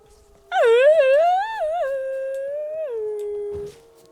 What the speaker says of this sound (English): It's a lot of fucking howls.